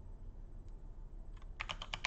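Someone types a short word on a computer keyboard, a quick burst of about half a dozen crisp, close key clicks after a moment of quiet room hiss.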